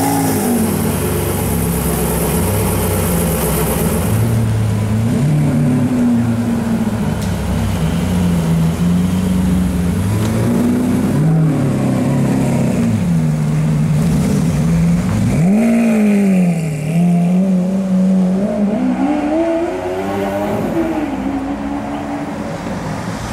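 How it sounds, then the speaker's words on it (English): A brand new Porsche 918 Spyder supercar moves through London streets, its engine loud and close, climbing and dropping through repeated throttle surges over steady road and traffic noise. "here is a brand new Porsche 918 Spyder that has just arrived here in London from Dubai"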